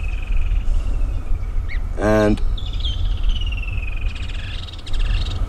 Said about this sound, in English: Woodlands kingfishers are calling all around us.